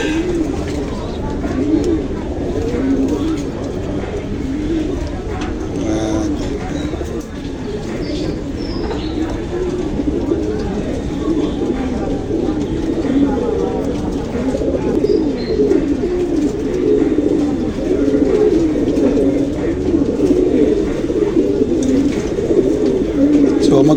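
Racing pigeons coo steadily in a loft during an SDR race in Pioduran, a dense, continuous chorus of low throaty calls that fills the whole stretch at an even level.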